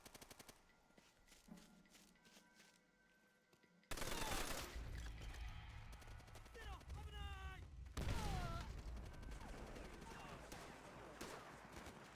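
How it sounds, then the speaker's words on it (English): Ammunition cook-off in the war video game Bird At War. A sudden loud burst starts a chaotic stretch of crackling, popping rounds and whistling streaks, with a second surge partway through, close and dense. "I didn't know this game had cook-off effects."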